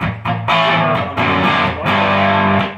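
A 1984 Fender Flame electric guitar played through mild distortion, a few strummed chords ringing out in quick succession with sustained crunchy tone, close and loud with no talking.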